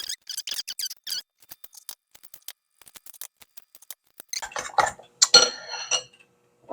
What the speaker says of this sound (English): And then I'm going to crack some eggs.